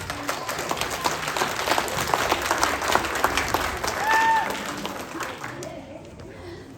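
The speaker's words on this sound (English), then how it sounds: "let's give her a round of applause." Audience applause for the music teacher at a school's second grade evening concert, a dense steady clapping from a crowd lasting several seconds, then dropping away near the end.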